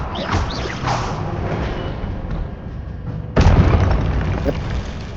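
Spell impact from Expelliarmus in Hogwarts Legacy, a sudden loud magical burst and boom landing midway through combat noise, with voices in the fight.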